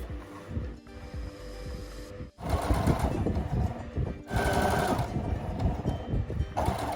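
A sewing machine stitches kameez fabric in loud bursts of rapid mechanical whirring, separated by brief pauses, with three main runs of stitching.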